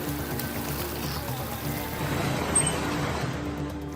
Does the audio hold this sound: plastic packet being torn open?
no